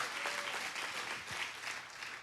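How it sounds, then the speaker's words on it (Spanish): A church congregation applauds for God, a sustained, even wash of many hands clapping, fairly soft and distant, with no one speaking. "Y si ese aplauso es para Dios, déselo con fuerza"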